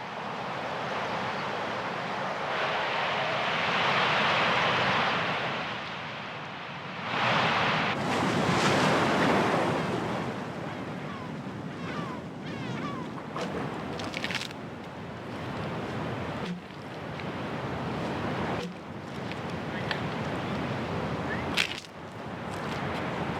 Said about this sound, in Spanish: el viento sopla con fuerza